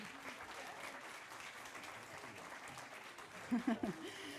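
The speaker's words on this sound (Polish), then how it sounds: "Tak, jeszcze raz wielkie brawa." Theatre audience applauding at a school ceremony in Teatr Kamienica, a steady distant patter of many hands sustained throughout, with a brief voice breaking through near the end.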